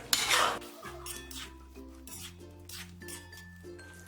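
A spoon mixes ingredients with added sugar in a pan for a double-fried crunchy dish, giving soft scraping and a few light metallic clinks against the pan, fairly quiet.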